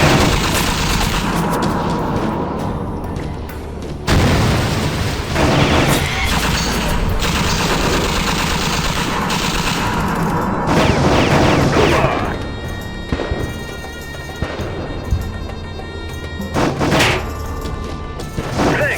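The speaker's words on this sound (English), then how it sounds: "Hear the gun warming up and get cover!" An enemy BTR's heavy gun fires in the game Heavy Fire: Afghanistan, loud bursts and booms crowded with crashes and mechanical clatter over a dense, sustained battle din.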